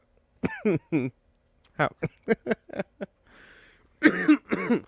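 Short bursts of coughing mixed with laughter from a nearby voice come in quick clusters, with a brief breathy pause between them.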